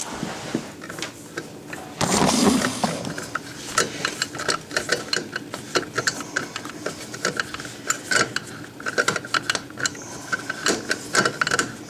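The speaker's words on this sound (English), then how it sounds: "you just start tightening it down" A dishwasher mounting screw is driven in with a rapid, rattling mechanical whir that runs in short bursts close to the listener, with brief pauses between the bursts.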